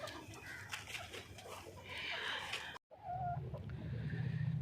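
Hens walking about outdoors give soft, intermittent clucks over steady farmyard background noise, with a brief dropout partway through.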